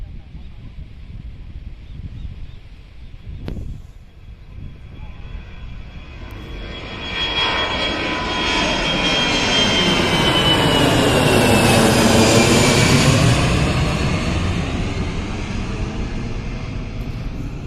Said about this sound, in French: c'est l'avion. Il prend de l'élan, man, il prend de l'élan. Ok, man, il va s'envoler